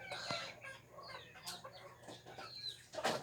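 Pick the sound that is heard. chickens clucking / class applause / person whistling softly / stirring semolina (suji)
chickens clucking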